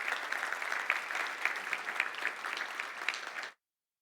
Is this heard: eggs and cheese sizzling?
no